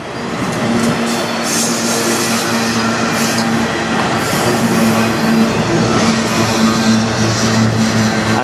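A heavy CN manifest freight train hauled by locomotives rumbles steadily past nearby, wheels clattering and a faint squeal over a constant low drone, with no voices.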